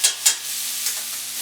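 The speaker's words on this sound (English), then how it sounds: "You don't need to saute the green peppers very, very long" Green peppers sautéing in a pan, a soft steady sizzle with a couple of brief stirring scrapes near the start, close and fairly quiet, no voices.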